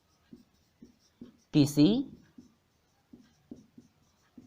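Chalk or marker strokes tap and scrape across a classroom board during a mathematics lecture, short scratchy bursts spaced irregularly, with someone speaking briefly in the middle.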